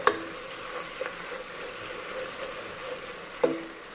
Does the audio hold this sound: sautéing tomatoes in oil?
yes